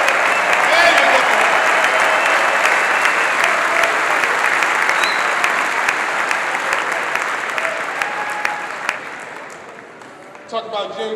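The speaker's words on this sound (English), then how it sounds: "Give them a round of applause." Large crowd at a Michigan football national championship celebration in the Crisler Center applauds and cheers loudly and steadily, the roar easing slightly toward the end with a few scattered claps and voices.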